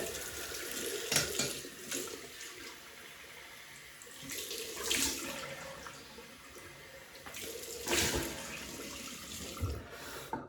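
Cold water runs from a bathroom tap into a sink in a steady hissing stream, with several louder surges and splashes as something is rinsed under it, close by and with no talking.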